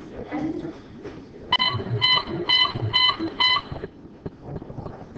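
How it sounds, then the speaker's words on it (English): An alarm clock beeps in a classroom, sounding four evenly spaced bursts of a bright electronic tone close by, with voices talking faintly before and after. "It's my alarm clock."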